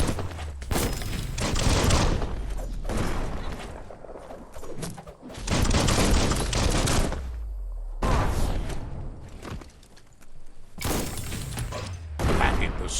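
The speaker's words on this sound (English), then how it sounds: "That's a bomb lobber." Weapon fire from a bomb lobber in the video game Biomutant: loud repeated blasts and booms in bursts across the clip, with thuds and busy game effects between them.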